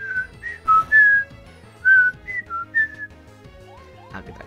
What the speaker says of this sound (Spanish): Silbato, silbato, silbato, silbato.